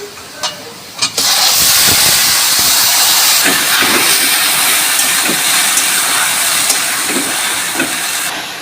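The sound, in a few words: taro leaves added to hot oil with garlic and onion, sizzling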